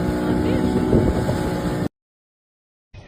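Motorboat ride on choppy water with a rocking hull, engine drone and wind buffeting the microphone, loud and steady, with a voice faintly mixed in; it cuts out abruptly to silence before resuming briefly.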